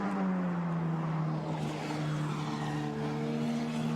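Formula Renault FR19 four-cylinder 1800cc turbo race car at Spa-Francorchamps qualifying, its engine howling at high revs with a steady, rising whine as it passes, loud and close, alone.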